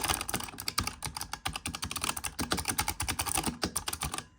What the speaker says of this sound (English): It is so loud that you could probably hear me typing from like downstairs.